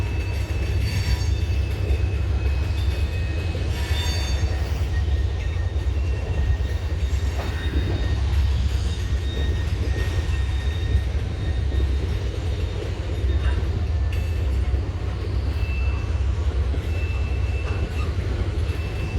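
A freight train rolls along the Hershey chocolate factory rail line in Pennsylvania, a continuous loud low rumble of cars and wheels with faint intermittent squeals, close by and steady throughout.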